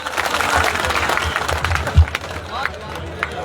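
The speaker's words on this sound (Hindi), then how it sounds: "इनके लिए जोरदार तालियां।" Applause from a crowd at a large village public rally, a steady patter of clapping with a low rumble beneath and one sharp thump near the middle, all fairly close and moderately loud.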